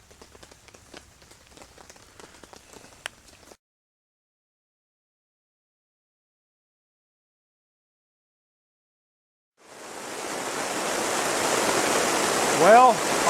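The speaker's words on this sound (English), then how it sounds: "In the last 5 minutes, it has started to pour." Heavy rain pouring down during a severe thunderstorm at a cabin tent campsite, a loud dense roar of water that bursts in after quiet ticking and silence, with a brief tonal sweep near the end and no talking.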